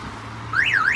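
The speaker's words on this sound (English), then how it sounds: "now that the tilt sensor is kicked in and the alarm system is activated." A Clifford car alarm set off by its tilt sensor as the car is jacked up: after a low hum, a loud, close electronic siren begins to warble up and down in pitch.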